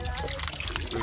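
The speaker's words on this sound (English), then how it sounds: "waiting for this bucket to get filled with water" Water runs from a low-pressure tap into a bucket for watering a garden in Zambia, a steady soft trickle and splash heard close up with a faint voice in the background.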